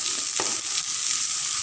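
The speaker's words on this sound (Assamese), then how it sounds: "এইখিনি যিটো ভাজি ৰখা আছিলে সেইখিনি মই অলপ সময় ভাজি লৈ ইয়াত দি দিছোঁ" Ginger, garlic and dried chilli paste frying in a pan for an Assamese chicken curry, giving a loud, steady close sizzle with a few stirring scrapes.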